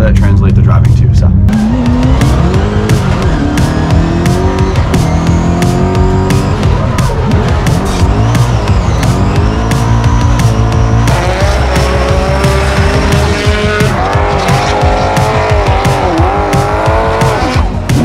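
Nissan S13 drift car at full throttle on a track during practice laps, engine roaring loud and close with rising and falling revs and sustained tire squeal throughout, a voice talking over it.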